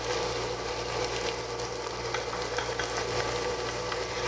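Garlic is added to onions softening in a pan for empanada filling, giving a steady, moderate sizzle of frying that runs continuously.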